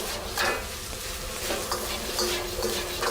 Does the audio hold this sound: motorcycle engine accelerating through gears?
no